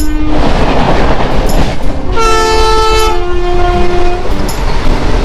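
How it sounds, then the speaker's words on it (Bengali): A Shalimar–Puri special passenger train running from Kolkata, with loud continuous rail rumble and a long train horn blast sounding midway through, close and steady throughout. "আজকে চললাম স্পেশাল ট্রেনে করে পুরী"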